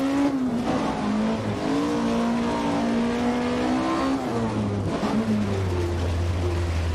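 Rally car engine in the Richard Burns Rally video game, on an RAC Rally stage in fourth gear, with a steady loud drone that rises and falls as the revs change and then drops into a lower hum near the end.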